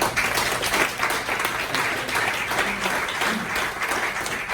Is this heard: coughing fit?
no